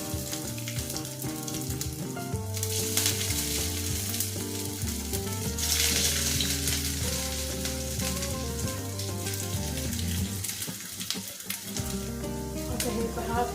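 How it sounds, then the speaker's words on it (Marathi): Varai (barnyard millet) fasting snacks deep-fry on a medium flame, giving a steady, continuous sizzle and crackle that runs under prominent background music. "त्याला मीडियम फ्लेमवरती फ्राय करून घ्या"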